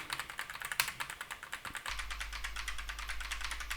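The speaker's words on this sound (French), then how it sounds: "Je vais essayer de faire du bruit avec mon clavier." Rapid clicking from typing on a computer keyboard, heard as a steady run of close, crisp keystrokes, with a low hum from a laptop setting in partway through.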